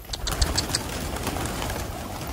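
Soft pigeon cooing repeats several times near the start against a steady outdoor hiss, with no talking.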